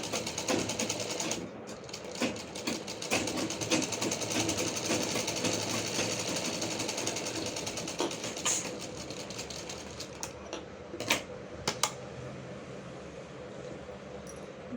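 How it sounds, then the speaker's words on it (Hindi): A sewing machine stitches a fabric strip onto suit cloth for a dress, running in a steady, continuous mechanical whir with occasional clicks throughout. "जो स्टिच फैब्रिक है वो स्ट्रिप पे करते हुए हमें स्टिचिंग करनी है"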